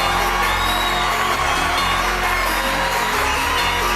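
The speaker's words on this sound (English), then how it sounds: "I'm gonna give y'all a round of applause." A live audience at a comedy-style stage talk, dense continuous crowd noise with cheering and applause, steady and loud throughout with no single voice standing out.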